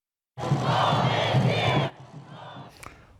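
Young undocumented immigrants known as dreamers cheer outside the U.S. Supreme Court after DACA arguments. A loud burst of group shouting and whooping starts abruptly and lasts about a second and a half, then drops to fainter scattered voices.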